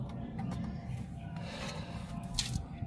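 A car oil filter being tightened by hand during servicing of an Acura TSX, a soft continuous rubbing and gripping sound, close by, with a few light clicks and no talking.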